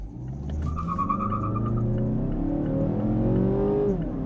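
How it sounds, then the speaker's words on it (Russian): A 2016 Mazda 6 2.5 with an automatic gearbox launches hard in sport mode with traction control off, its engine revving up steadily through rising tones as brief tire squeal from wheelspin cuts in early, loud and close throughout. "Несмотря на то, что автомат срывает колеса в пробуксовку, пробуем, что же она покажет на 95-м."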